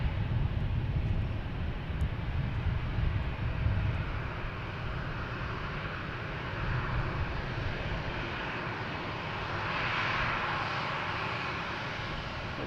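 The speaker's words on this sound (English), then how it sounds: "Alaskan Airlines coming into their gates over here." An Alaska Airlines airliner taxis toward its gates at Boston Logan Airport, a steady distant jet engine roar that swells slightly midway, with no talk.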